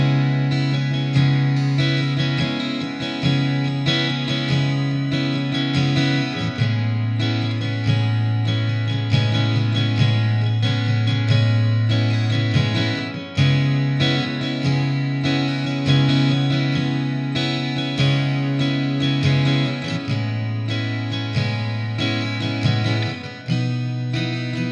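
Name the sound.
electric guitar with effects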